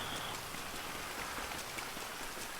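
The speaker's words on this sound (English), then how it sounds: "Oh, it's raining outside." Rain falls outside, a steady, soft hiss of drops hitting surfaces, continuous and fairly faint with no voices.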